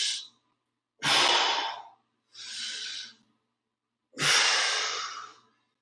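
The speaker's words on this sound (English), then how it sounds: "We're going to breathe in as we are coming across, and we're going to exhale as we go into that stretch." A person doing a stretching exercise takes four audible breaths, deep inhales and exhales through the nose and mouth, each about a second long, close and separated by brief silences.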